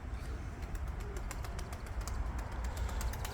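Soft, low pigeon coos repeat under a steady background hum, with light scattered clicks and rustling nearby.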